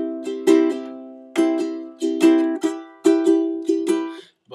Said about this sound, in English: which is called a ghost strum, which sounds like this.